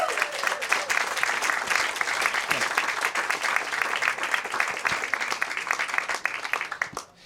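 An audience applauding after a political speech, a dense sustained burst of clapping from many hands that fades off at the end.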